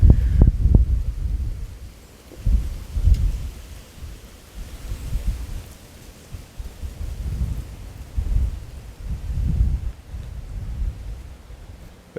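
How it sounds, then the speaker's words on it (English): Strong gust of outdoor wind buffeting the microphone in low rumbling surges, rising and falling several times over twelve seconds with no talking. "I'm gonna wait for this giant gust to fucking fly by."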